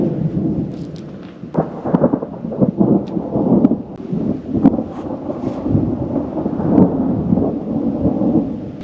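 A thunderstorm on an offroad trip in Bosnia gives loud, close rolling thunder, with rumbles and sharp cracks over several seconds and rain and wind beneath.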